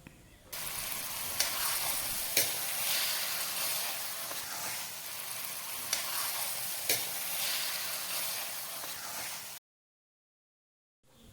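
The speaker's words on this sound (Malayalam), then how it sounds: "സവോളയെല്ലാം ലൈറ്റ് ബ്രൗൺ നിറമാകുമ്പോൾ മാരിനേറ്റ് ചെയ്ത് വെച്ചിരിക്കുന്ന ചിക്കൻ അതിലേക്ക് ചേർത്ത് മിക്സ് ചെയ്ത്" Marinated chicken for hariyali curry fries with light-brown onions in a constant, close hissing sizzle, marked by a few sharp stirring taps before the sound cuts off abruptly near the end.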